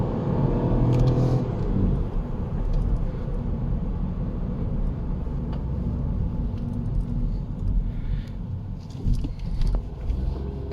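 A Ford Fiesta 1.0 EcoBoost climbs a steep hill at half throttle, its engine a steady low rumble heard from inside the car, with a few brief clicks and bumps along the way.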